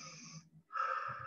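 A person breathes in and then out audibly as a demonstration, a raspy, wheezy inhale followed by a short pause and a stronger, airy exhale, close and alone.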